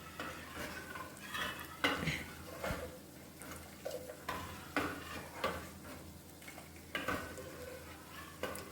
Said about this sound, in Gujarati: હવે એ જે વઘાર છે એને મેં દાળ જોડે મિક્સ કરી દીધો છે